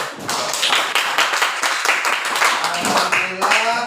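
A classroom of students claps their hands in a quick, fairly rhythmic burst of close, sharp claps, with a voice rising briefly near the end.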